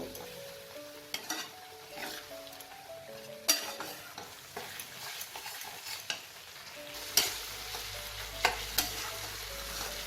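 Egg masala is stirred in a frying pan over a soft, steady sizzle, with repeated scrapes and sharp metallic clinks of the spoon against the pan at irregular intervals.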